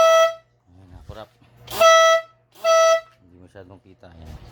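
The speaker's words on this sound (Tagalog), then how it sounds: "Tunog ng busina niya, air horn kasi to." Air horn on a 2003 Kawasaki Aura motorcycle blares in three loud, steady blasts, one short and two longer, with someone talking quietly in between.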